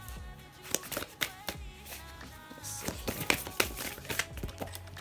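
Oracle cards are shuffled by hand close up, giving a quiet series of irregular riffling snaps and soft taps that cluster and fade in an uneven rhythm.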